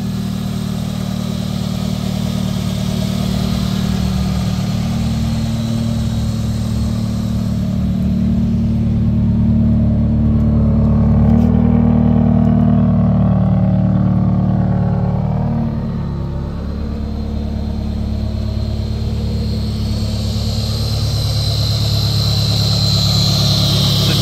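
A car engine fitted with a Jackson Racing supercharger runs steadily up close with the hood up, a continuous low rumbling idle with a slight rise in pitch midway before settling back.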